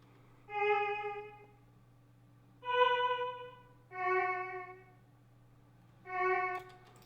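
A Synth Vox preset from the Purity plugin plays a simple melody in FL Studio for a plugg beat. Four sustained, breathy vocal-like synth notes are spaced apart over a low steady hum, with no one speaking.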